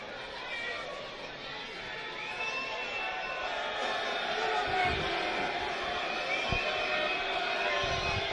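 A rugby league crowd at Whitehaven in a 2004 cup semi-final against Leigh fills the air with a broad swell of shouting and chatter that builds gradually, while speech carries over it.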